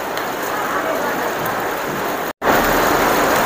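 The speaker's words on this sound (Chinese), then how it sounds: "加上今天又是下雨" Heavy rain pours steadily over a roadside vegetable market stall, a dense even hiss of water falling on surfaces, close and continuous with a momentary cut near the end.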